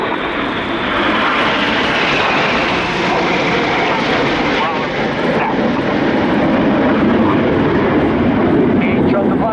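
Jet aircraft of the RAF Red Arrows aerobatic team roar loudly and continuously through an air display at the Royal International Air Tattoo, a dense, steady engine wash throughout.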